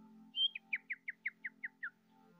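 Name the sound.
mouth imitation of bird chirping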